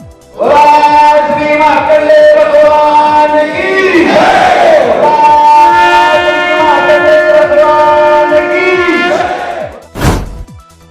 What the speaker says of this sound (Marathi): दर्शन घेण्यासाठी पद्मशाली बांधवांची मोठी गर्दी जय मार्कंडेयच्या घोषणा